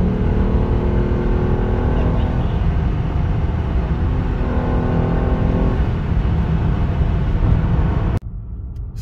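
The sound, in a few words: Lexus IS350 with cold air intake revving at higher RPM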